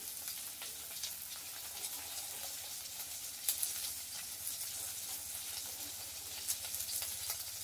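Onion and prawns fry in a wok with a faint, steady sizzle and occasional light clicks of stirring.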